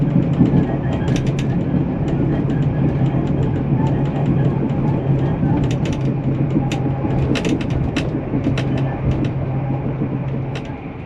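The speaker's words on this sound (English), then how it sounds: "you can hear the cabin door banging the wall when the train goes through the curves" An NSW XPT sleeper train rumbles steadily along its track, with a low drone inside the cabin and scattered sharp clacks and knocks as the cabin door bangs against the wall on curves.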